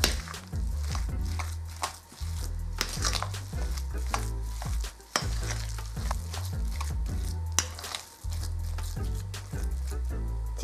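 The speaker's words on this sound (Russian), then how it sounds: "Все просто перемешаю ложкой." A spoon stirs cottage cheese mixed with egg and sugar in a bowl for lazy dumpling dough, giving a steady run of soft squishy scrapes and light taps against the bowl, close and fairly quiet.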